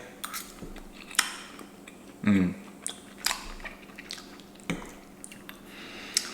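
Someone eating garlic tofu pulse pasta up close: moist chewing and soft squishing, with sharp cutlery clinks against a dish scattered throughout and one louder wet bite in the middle.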